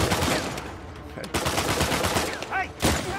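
Automatic gunfire in the video game Uncharted 4 during a tower ambush, bursts of rapid shots rattling loud and close, with brief pauses and a voice heard between them.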